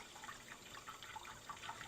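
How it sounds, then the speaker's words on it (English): Jasmine rice being rinsed in cold water inside a cooking pot, a faint, steady watery swish and trickle with small splashy accents, heard alone. "we're going to wash it just right in the pot that we are making our rice in. So nice cold water"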